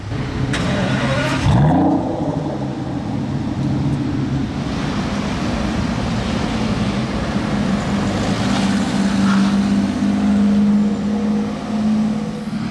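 A Ferrari 599 supercar passes on a road during car spotting, a steady engine drone running throughout with a rising, louder swell near the start and a brief burst partway through; no talking.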